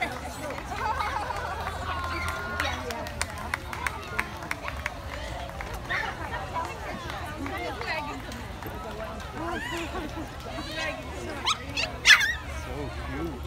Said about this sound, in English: This is Scout, and he's a Beagle Scout.